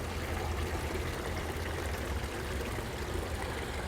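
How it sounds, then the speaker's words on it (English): A small water feature in Palma trickles and splashes steadily, a continuous close wash of running water with no talk. "And down we find some more little water features here."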